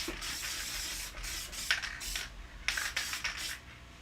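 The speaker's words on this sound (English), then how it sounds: "I didn't know my spray glue came out so fast." An aerosol can of spray glue used for papercraft lets out a few short, close hissing bursts over a soft background rustle.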